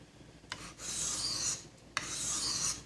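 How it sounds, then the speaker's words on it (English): A knife blade is drawn across a sharpening stone in two long, even strokes, each a close, gritty rasp beginning with a sharp contact click and lasting about a second, with no talking. "I tend to sharpen all my knives at that certain angle"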